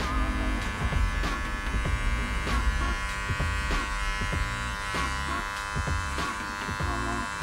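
Electric hair clippers buzz steadily while cutting curly or coarse hair using the clipper-over-comb technique during a bald fade, a close continuous hum with repeated short snipping strokes throughout.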